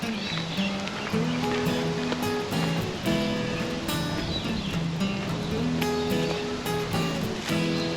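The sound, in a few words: brown river flowing among gum trees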